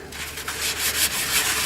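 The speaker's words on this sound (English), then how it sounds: "You gotta really scrub though to get, I mean, it still a little bit." A white napkin scrubbed hard across a cleaned engine surface, a close, continuous rough rubbing swish that swells slightly as the strokes continue.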